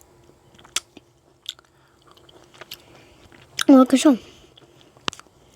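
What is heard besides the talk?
chewing and biting folded candy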